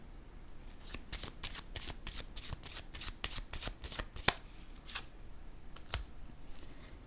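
Tarot cards shuffled by hand and laid down on a table, a quick run of crisp riffling flicks and soft slaps, fairly quiet and close, with a couple of sharper card snaps.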